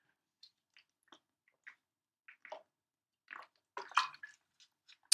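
Close, quiet wet sounds of someone drinking water: a series of small sips, swallows and liquid squishes spaced apart, then a denser cluster of gulps near the end, with no talking.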